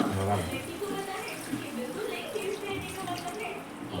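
Water poured from a glass into a pot of marinated fish curry during home cooking, a steady continuous splash and trickle running the whole time with a voice talking over it.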